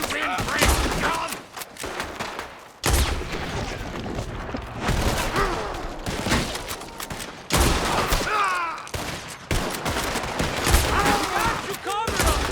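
Dense gunfire from a Red Dead Redemption 2 shootout, with rapid overlapping rifle and pistol shots in loud volleys that keep breaking off and resuming, plus shouted voices in the mix.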